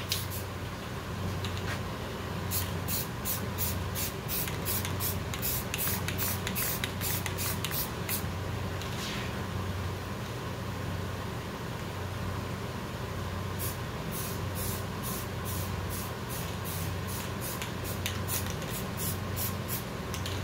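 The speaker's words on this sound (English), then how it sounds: "I'm just gonna use a nice white spray paint in order to blend that hair in together" White acrylic spray paint hisses steadily onto acrylic fur for a costume mask, a continuous spray with short repeated bursts, close and fairly loud with no talking.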